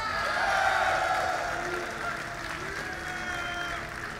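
Crowd at the IPL 3 StarCraft esports grand final applauding and cheering, a broad wash of clapping and shouts swelling early then holding steady, with an announcer's voice over it.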